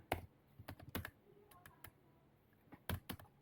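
Quiet, close computer keyboard typing in short irregular bursts of keystrokes with brief pauses, as on a desktop during spreadsheet work.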